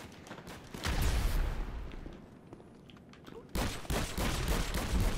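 Rapid gunfire rips through a GTA 5 Online match in dense, loud automatic bursts, pausing briefly in the middle before another heavy volley resumes.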